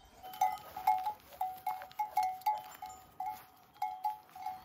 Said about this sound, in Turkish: Yine inekler var etrafta. Onların çanları çalıyor.